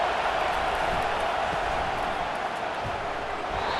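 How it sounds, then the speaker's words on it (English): Steady stadium crowd roar from the College Football 25 video game during a Miami versus NC State matchup, a dense continuous wash of noise with no break, loud and distant-sounding, with no clear talk. "Now the crowd responding in the red zone,"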